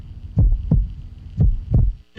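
Heartbeat effect with four deep, booming lub-dub thumps at a steady slow pulse, loud and close over a low background hum, no voices.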